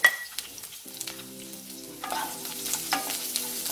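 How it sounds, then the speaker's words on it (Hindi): Onions and bell peppers sizzling in hot oil in a kadai, a soft crackling fry that picks up after a brief low hum, close and fairly quiet. "ऑयल अच्छे से गरम होने के बाद हम उसमें अनियन और बेल पेपर्स को डाल देंगे।"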